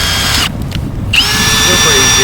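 A cordless power drill spins a Clam ice anchor installation tool, a steady loud whine running nearly throughout with a short pause near the start, while a voice talks over it.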